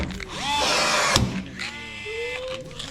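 Power tool whirring loudly on car bodywork while a rivet is set, with a sharp thunk partway through, then lower machine tones and a rising whine near the end.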